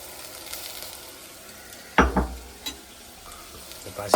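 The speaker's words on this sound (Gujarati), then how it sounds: "આવી રીતે હલાવતું રહેવાનું આદુ ને લસણની પેસ્ટ નાખી દઈએ" Onions browning in a pan with ginger-garlic paste for dal fry, a soft continuous sizzle punctuated by sharp spoon scrapes and clanks against the pan, close and alone.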